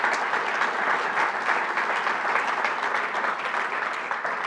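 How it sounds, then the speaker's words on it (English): Audience at a coalition panel giving the panelists a round of applause, a steady, dense wash of many hands clapping at fairly close range, sustained throughout with no talking over it. "Can we give them another hand of applause, please?"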